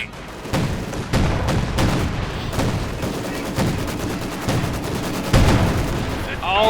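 Rapid gunfire from the Company of Heroes 2 strategy game, a dense run of repeated shots and bursts with sniper and machine-gun crews in action, loud and continuous with a heavier blast near the end.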